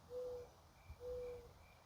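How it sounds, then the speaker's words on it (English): Mourning doves coo softly in a backyard garden, two faint, steady drawn-out notes about a second apart over quiet outdoor background. "I love hearing the mourning doves."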